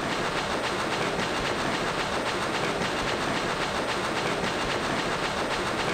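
A train in the Echo Night video game rumbles along the rails with a dense, steady clatter and rushing noise, loud and unbroken throughout, with no voices.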